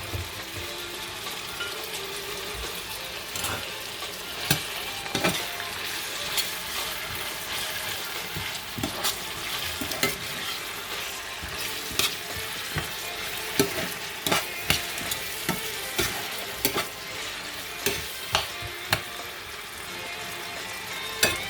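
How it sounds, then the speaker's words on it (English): Vegetables such as carrots and green beans frying for coconut fried rice, a loud continuous sizzle broken by repeated sharp scrapes and clacks of a utensil stirring the pan, with no voices. "I will leave it for some minutes to fry before adding my green beans."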